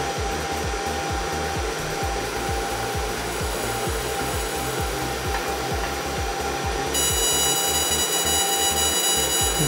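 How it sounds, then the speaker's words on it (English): A 10 watt DPSS infrared laser engraver being focused over black anodized aluminum gives a steady, loud rasping buzz with a rapid pulsing texture, continuous throughout with no talk. "You can hear specific sound when you focus in the laser."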